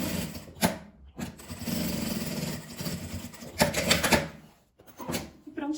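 Sewing machine stitching bias binding along the edge of a fabric tulip-style wallet pouch, running in short bursts separated by brief pauses, fairly close and moderately loud.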